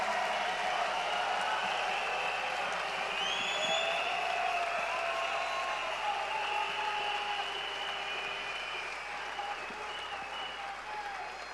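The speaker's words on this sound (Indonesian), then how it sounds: "please give him a round of applause for Sati Sinati Raja" A large conference audience at a Qnet event in Jakarta claps in a dense, sustained round of applause that stays loud and slowly tapers toward the end.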